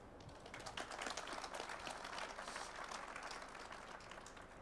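Steady, faint applause from a business conference audience: many hands clapping together in a dense, even patter that continues throughout without any talk.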